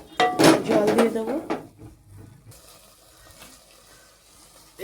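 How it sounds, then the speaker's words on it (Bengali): Water is poured into a pan of sautéed dal, a soft, steady splashing that runs quietly for a few seconds right after a voice finishes speaking. "এখানে আমি জল দিয়ে দিচ্ছি।"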